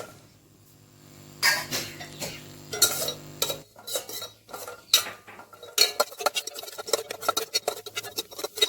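Cashews and raisins roasting in oil in a pan, heard as irregular clinks and scrapes of a utensil against the pan with faint background hiss, no talking.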